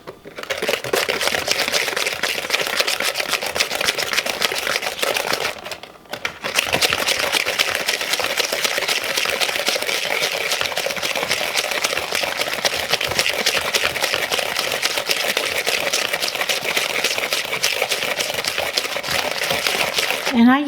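Granulated sugar poured in while a long-handled hand whisk beats a coconut cake batter, giving a steady, continuous scraping and rattling against the bowl that runs throughout, briefly pausing once.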